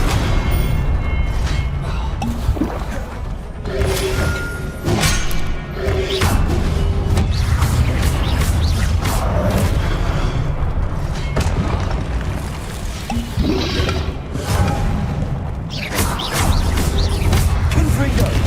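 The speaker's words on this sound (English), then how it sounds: "Expelliarmus!" Spells fired over and over in a Harry Potter video game duel with the Pensieve Guardian, bringing loud booms, whooshes and heavy impacts that hit again and again through a dense, constant wall of game noise.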